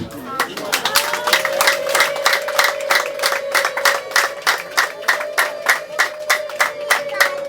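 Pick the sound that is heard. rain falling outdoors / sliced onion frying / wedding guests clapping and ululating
wedding guests clapping and ululating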